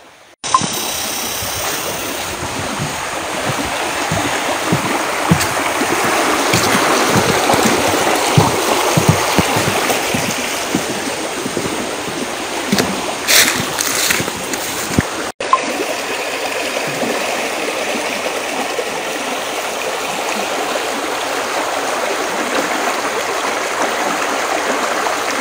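Stream water flows steadily beneath a wooden bridge in the Amazon, a continuous rushing trickle that stays close and fairly loud throughout, with a brief sharper splash around the middle.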